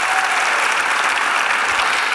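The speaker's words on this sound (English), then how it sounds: "So big applause for them" A conference audience at a national volunteer and community service town hall breaks into steady, dense applause, many hands clapping together in an even wash of sound without a break.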